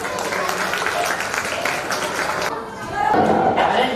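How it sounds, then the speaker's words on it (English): Audience applause for the band at a children's school annual day, loud clapping and crowd noise that dips briefly near the end before swelling again, with talking mixed in. "The band, give a round of applause."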